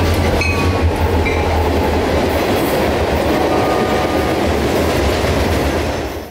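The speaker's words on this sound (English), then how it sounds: "with A782 making a southbound trip out of Wildwood down to Zephyr Hills to switch a grain" Southbound freight train A782 rolls past on the S-Line, a loud continuous rumble of wagons and wheels with rhythmic clatter and a low engine drone, close and steady throughout.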